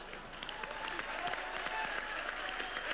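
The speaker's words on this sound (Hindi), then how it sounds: "जोरदार तालियां हो जाए" A studio audience at a televised comedy show gives steady, dense applause that stays even and moderately loud throughout, with no voices rising above it.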